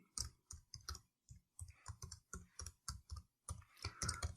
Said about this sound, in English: Let me type my first command.